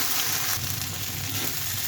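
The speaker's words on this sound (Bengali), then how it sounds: "পেঁয়াজটা আর একটু ভাজতে হবে। রসুন বাটা আর আদা বাটা দিয়ে দিলাম" Onion fries together with garlic and ginger paste in hot oil, a loud, close, dense sizzle that holds steady for a couple of seconds without any talk.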